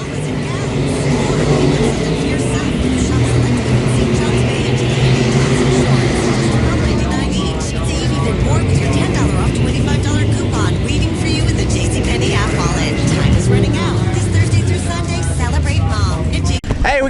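B-Mod race cars run laps at the 2019 King of Kansas City $1,000-to-win 50-lap dirt track feature, a dense, continuous roar of several engines under steady loud announcer commentary.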